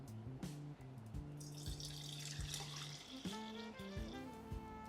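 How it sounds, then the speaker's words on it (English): Lemongrass mint tea streams steadily into a teapot, a close liquid pour with a faint trickle and light clinks, no talking over it. "I'm just going to pour this into this lovely teapot"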